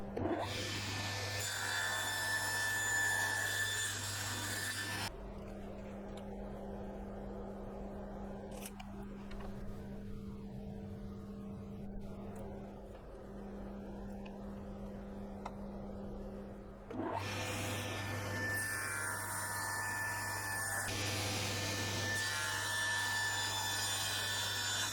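A saw cuts oak timber for shelves in loud, rasping close-up bursts at the start and end, with a quieter stretch of lighter rubbing and a steady hum in between.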